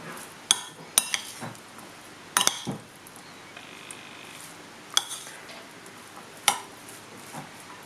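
A spoon stirs a mixture of dark soy sauce, oyster sauce and oil in a small bowl, making sparse, sharp clinks against the dish between quiet gaps, close and with no voices.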